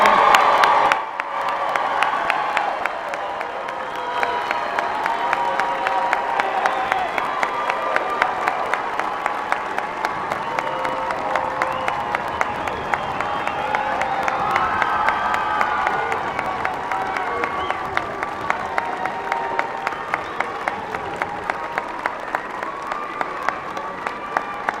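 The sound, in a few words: applause for graduates at commencement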